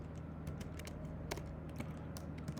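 Rapid clicking of a computer keyboard while code is typed in a Python lesson, a quick uneven run of close, crisp keystrokes with a few sharper taps, heard alone without speech.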